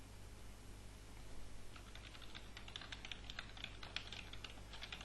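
Quick, light tapping on a computer keyboard, faint and steady with irregular clicks over a low background hum.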